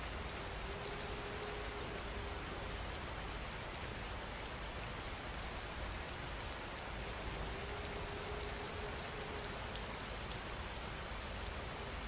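Steady rain falls in an even, hissing wash of drops on surfaces, soft and constant throughout with no other sounds.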